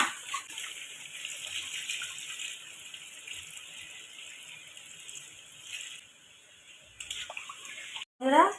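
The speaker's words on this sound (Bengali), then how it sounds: "দেখো, এবারে আমি দিয়ে দেবো জল।" Water poured into a pan of village-style desi chicken curry after the meat is fried down in oil, giving a steady splashing hiss that runs for several seconds before a brief clatter near the end.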